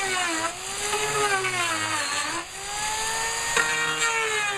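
A power sander works over a house exterior with 36-grit sandpaper, giving a loud, steady whine that rises and falls in pitch as it moves across the siding, with no talk.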